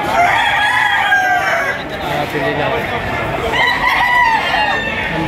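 Chickens and roosters at a poultry auction market in Lipa City crow and cluck repeatedly over a busy, loud crowd, with someone talking prices through it.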